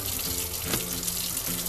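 A kitchen tap runs steadily into a sink while lemon grill chicken and mashed potatoes are being prepared, giving a continuous close hiss and splash of flowing water with no talking.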